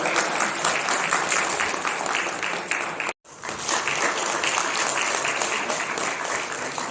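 Vigorous applause from a crowd at a felicitation ceremony held by a coaching centre for the Wrestling Federation of India president, sustained dense clapping broken by a sudden momentary cut before resuming just as strongly.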